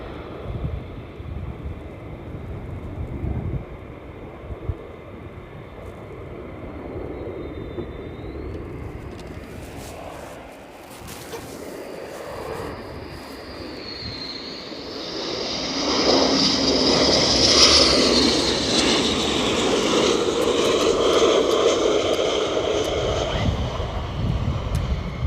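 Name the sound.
military jet aircraft flying past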